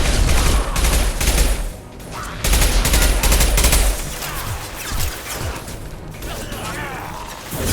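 Heavy weapons combat in Mass Effect 2, dense loud continuous gunfire and rattling bursts with booming low impacts, shifting intensity over several seconds.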